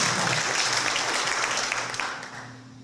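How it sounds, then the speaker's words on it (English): An audience at the National Cowboy Poetry Rodeo contest applauds in a full, close wash of clapping that fades away toward the end. "How about a round of applause for Jeff and Don Dawson and all the folks who put together this good contest?"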